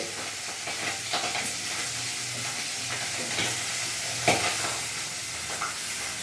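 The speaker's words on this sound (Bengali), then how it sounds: "হট করে ফুটছে" Pabda fish spattering in hot oil, a steady close sizzle with scattered crackles and pops, one sharper pop standing out near the end, no talk.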